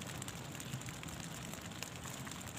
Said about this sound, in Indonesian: Hujannya turun Mas.